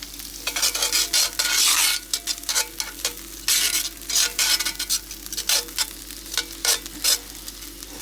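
Onion and green peppers fry in seasoned oil in a pan on medium heat, a loud steady sizzle broken by bursts of stirring, with no voices.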